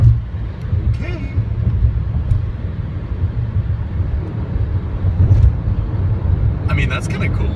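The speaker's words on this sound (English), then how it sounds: "And this is a tunnel. We're just driving into the mountain." A car drives through a road tunnel bored into a mountain, giving a steady, loud low rumble of engine and road noise throughout, with brief brighter swishes near the end and people talking over it.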